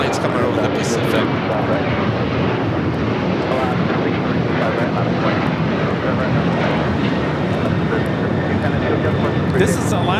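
An Alaska Airlines Boeing 737-800 jet takes off from LAX bound for San Jose, Costa Rica, making a continuous loud roar with broad wind-like rumble that holds steady throughout, a few faint clicks and bumps on top.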